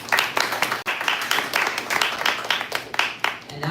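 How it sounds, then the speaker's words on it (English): Audience applause for a speaker at a community gathering, a dense patter of hand claps sustained for several seconds at close, moderate loudness, with no talk over it. "You can give him a round of applause."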